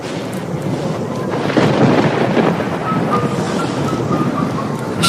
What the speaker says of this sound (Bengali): সেরকম ঝড় বৃষ্টি শুরু হলো, তুমুল বৃষ্টি আর সাথে বজ্রপাত